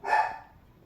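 A single short dog bark rings out indoors, loud and close, then trails off quickly into quiet room tone.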